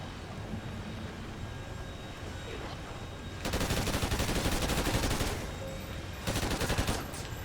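Automatic gunfire in Call of Duty Ghosts Extinction on PS4 rattles in two loud sustained bursts over a background of game ambience, the first lasting about two seconds, the second shorter.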